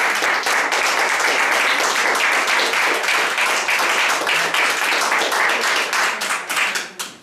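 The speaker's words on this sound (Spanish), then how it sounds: "¡Un aplauso!" An audience breaks into loud, dense applause at a quiz-style event, steady clapping sustained for several seconds before tapering off and fading out.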